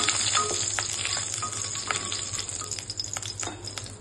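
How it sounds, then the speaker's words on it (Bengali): Nigella seeds and green chillies sizzle and crackle in hot oil, a loud, steady frying hiss with scattered sharp pops throughout and no voices. "তেলটার মধ্যেই কালো জিরে দিয়ে দিয়েছি 1 চা চামচ মতন, আর 2 লঙ্কা, কাঁচা লঙ্কা।"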